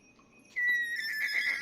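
A horse neighs from a tabletop game soundboard during a Curse of Strahd session: after a quiet start, one loud, close whinny rises sharply and trails off with a shrill, wavering tail.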